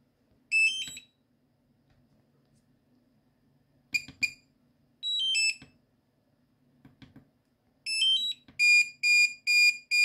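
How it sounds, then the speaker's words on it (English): A DJI Mini 2 or Air 2 remote controller's buzzer sounds loud, piercing electronic beeps in short scattered bursts, ending in a run of five rapid, evenly spaced beeps against near silence. "this beeping is because the joysticks are not connected"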